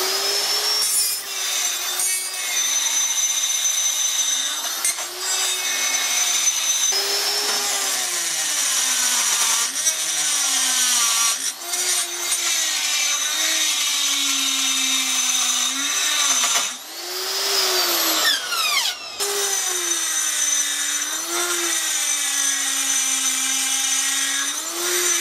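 Carbide burr on a die grinder cutting into cast iron, a continuous high-pitched whine with a steady tone that dips and rises as the load changes, loud and close throughout with no talk.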